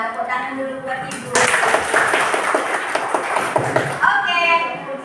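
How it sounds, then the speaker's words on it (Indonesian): Clapping for a teacher, a short burst of many hands beginning abruptly, dense and fairly close for a few seconds before fading as a voice returns. "Tepuk tangan dulu buat Ibu."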